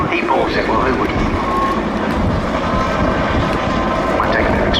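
A search and rescue helicopter at the Cosford Air Show 2017 gives off a loud, steady engine and rotor roar that fills the whole stretch, with a voice talking over it.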